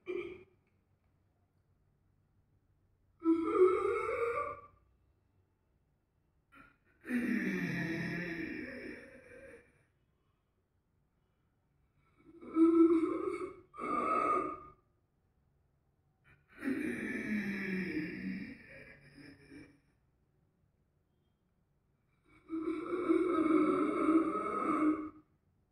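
Ujjayi yoga breathing demonstrated for elderly practitioners, with five slow breaths, each drawn and released through the nose with a soft, snore-like throat rasp, separated by quiet pauses, close and alone.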